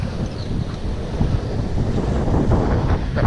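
Strong wind buffets the microphone on a beach at Jetty Park, a steady loud roar with rushing gusts and faint surf beneath, and no voices.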